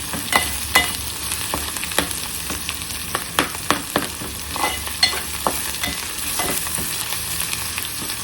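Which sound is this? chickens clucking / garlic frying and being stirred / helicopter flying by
garlic frying and being stirred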